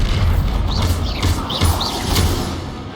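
Hogwarts Legacy combat with the Bombarda explosion spell, a loud rumbling low-end mix of booms and impacts with sharp bright crackles and chirping magical effects layered over it.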